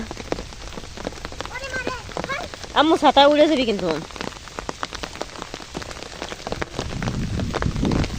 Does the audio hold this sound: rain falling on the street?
yes